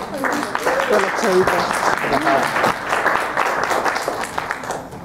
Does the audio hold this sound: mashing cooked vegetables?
no